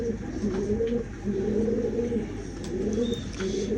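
A flock of Ferozpuri pigeons keeps up a continuous, overlapping run of low throaty coos, close and moderately loud, with faint chirps above and no talk.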